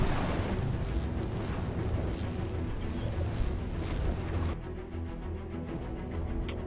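A 300i spaceship blowing up in Star Citizen's Arena Commander: a loud, sustained rumbling explosion roar that drops abruptly in intensity near the end, leaving a quieter low rumble.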